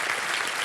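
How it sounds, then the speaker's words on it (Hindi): Brief burst of studio audience applause on a quiz show set, a dense even wash of many hands clapping close and loud with no pauses. "ताली बज जाए इनके लिए"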